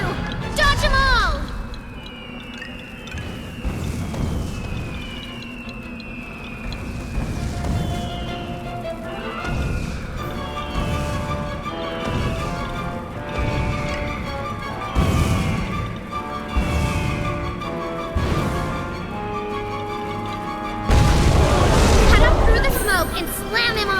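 Missiles explode in a boss fight in the video game Puppeteer, bursting in repeated booms and crashes over a busy game soundtrack, with a particularly loud blast near the end while voices speak.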